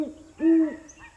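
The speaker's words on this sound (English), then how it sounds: "let's take a listen to what a great horned owl sounds like." A great horned owl hooting: a few deep, soft hoots in a short sequence, with a longer, stronger middle note, heard close and clear against a quiet background.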